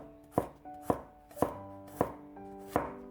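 A knife chops through peeled garlic cloves on a cutting board, cutting them into thin slices: five crisp, evenly spaced thuds, close and clear, with no voices.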